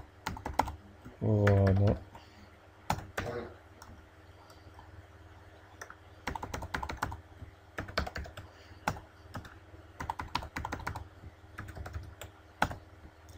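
Typing a password on a computer keyboard, with scattered close key clicks in short bursts and a brief voice partway through.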